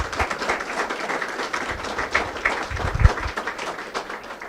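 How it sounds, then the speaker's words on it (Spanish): Applause from a conference audience for a lecturer at a keynote event, a short burst of fairly soft, dense clapping heard from a distance. "yo les suplicaría un aplauso más para la maestra"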